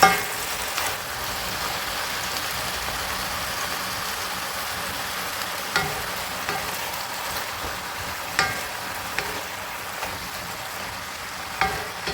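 Chinese cabbage and mixed vegetables stir-fry in a pan, a continuous even sizzle broken by occasional sharp scraping clicks from the spatula, with no talking.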